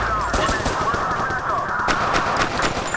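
Rapid machine gun fire in a VR shooter game, Crisis Brigade, rattles in loud, quick bursts of close shots that run through the whole stretch over a steady noisy background.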